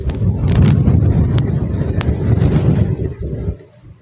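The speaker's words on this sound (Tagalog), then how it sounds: "Ang lakas ang hangin." Strong wind buffets the microphone beside a river in Angono, Rizal, a loud rough roar of gusts that drops away near the end, with no talk heard.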